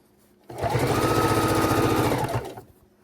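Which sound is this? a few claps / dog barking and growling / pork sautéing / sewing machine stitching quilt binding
sewing machine stitching quilt binding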